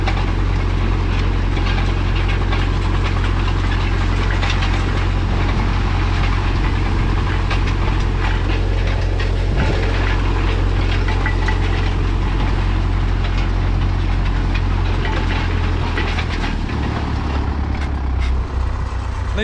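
A tractor engine drones steadily and loudly throughout, hauling an Ad-Rol row cultivator through a bean field, with a constant low rumble and mechanical rattle and no talk.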